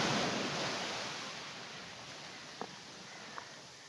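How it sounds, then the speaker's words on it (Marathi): Sea waves wash in steadily at Shivaji Park, Dadar, a broad, even surf roar close by with wind noise, and two brief faint knocks near the end. "काय लाटा येत आहेत."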